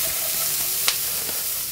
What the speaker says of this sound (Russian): Пока морковка и лук жарятся